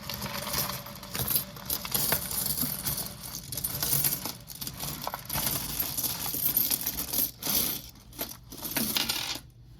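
A jar of saved coins dumped out all at once, a dense, continuous metallic clatter and jingle of coins spilling and settling over several seconds, close and fairly loud.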